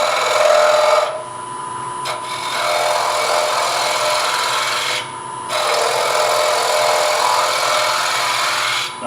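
A power tool grinds steadily into wood while hollowing out a wooden coffee scoop, a loud continuous rasping that pauses briefly twice before resuming.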